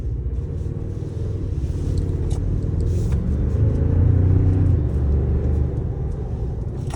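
A 2024 Toyota Tacoma with the iForce Max engine drives along, heard from inside as a steady low rumble of engine and road noise that swells slightly midway, with no talking.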